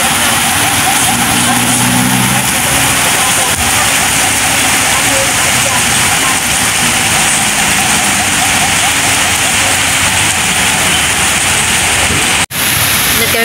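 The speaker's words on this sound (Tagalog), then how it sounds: "Napakalakas po ng ulan dito." Heavy rain pours down steadily in Manila, a loud, dense, continuous wash of sound close by, with faint voices briefly audible early on beneath the downpour.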